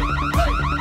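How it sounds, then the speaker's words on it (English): A bank alarm in a cartoon bank robbery blares nearby, a loud wailing electronic tone sweeping up and down in quick repeated cycles. "he's turning the alarm on."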